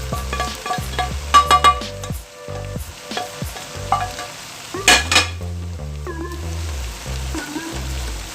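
Eggs and rice for a brown rice and barley chicken fried rice fry in a pan while being stirred, with steady sizzling broken by scraping strokes and sharp metal clanks of a spatula on the pan.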